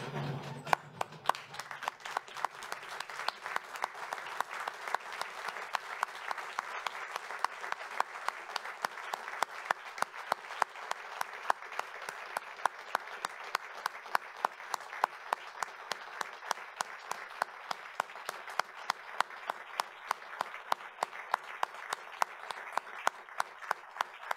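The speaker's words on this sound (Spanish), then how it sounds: "le brindemos un minuto de aplausos a la doctora Margarita" Audience at an institute of geography activities report gives a geographer a long standing ovation, with steady, sustained applause and sharp individual claps throughout, fairly close.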